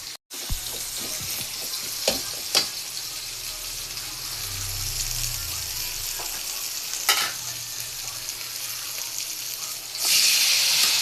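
Tomato sautéing in a pan alongside tilapia, a steady close sizzle with a few sharp scraping stirs and a brief burst of louder hissing near the end.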